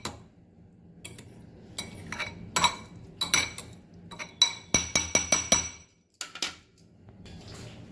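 A lid is set over a bowl of tangy spicy paneer: a close series of sharp glassy clinks and taps, a few scattered knocks followed by a quick run of bright clinks, then a brief pause and softer rattles.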